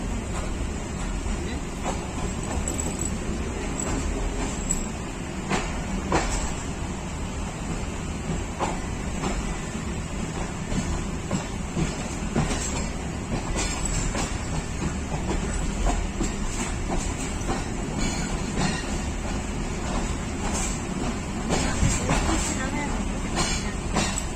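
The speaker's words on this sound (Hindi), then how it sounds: "हमेशा की तरह कोटरी जंक्शन को बहुत ही स्लो स्पीड में क्रॉस कर रही है ट्रेन।" The Tezgam passenger train rolls slowly through Kotri Junction in Pakistan, heard as a steady, close rumble with rhythmic wheel clatter and occasional clanks. Voices are faintly present beneath the noise.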